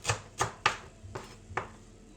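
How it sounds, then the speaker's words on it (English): A knife chops green and red chillies on a board with five crisp, evenly spaced strokes, close and fairly quiet, and no talking. "so just finally chop your green and red chilli"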